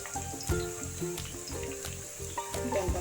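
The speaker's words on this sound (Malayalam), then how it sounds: "ഇതൊക്കെ ഒന്ന് നല്ലപോലെ വഴറ്റുന്നത്." Crushed ginger and garlic sautéing in a hot pan give a steady sizzle, broken by several sharp stirring knocks and scrapes at irregular moments, with no talk.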